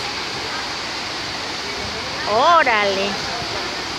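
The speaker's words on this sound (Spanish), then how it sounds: "Estas son las cascadas de Misolja." The Misol-ha waterfall cascades as a constant, dense roar of falling water, close and steady throughout, with a man's brief exclamation rising over it near the middle.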